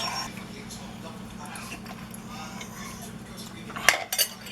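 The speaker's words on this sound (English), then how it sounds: "And I'll stir that in and do another taste test." A spoon stirs yellow mustard into a pot of three-bean chili with soft scraping close by under a faint voice, ending in a few sharp metallic clinks against the pot.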